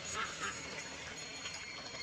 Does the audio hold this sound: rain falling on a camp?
no